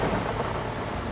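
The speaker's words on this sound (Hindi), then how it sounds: "जोरदार तूफान आ रहा है।" A fierce thunderstorm in the wilderness, with heavy rain pouring and a continuous deep rumble of thunder filling the air, loud and steady with no voices.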